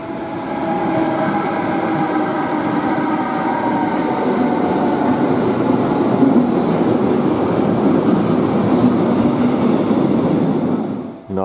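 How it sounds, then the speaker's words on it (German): A long freight train rolls through Kufstein station, a loud, sustained rumble and rattle of wagons close by, with faint wheel squeal and a steady rhythm until it cuts off at the end. "Naja, ist halt ein langer Güterzug."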